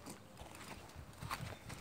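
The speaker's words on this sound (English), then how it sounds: "Here's one of the big horses." Hooves of a big horse clip-clopping at a stable yard, a steady uneven patter of close footfalls over short stretches of ground.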